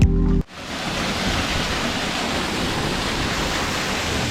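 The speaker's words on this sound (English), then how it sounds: "So right now, about to approach a beautiful waterfall. This waterfall is flowing." A flowing waterfall in Bryce Canyon National Park roars as a steady, dense wash of loud rushing water. A brief tonal sound at the very start cuts off abruptly before it.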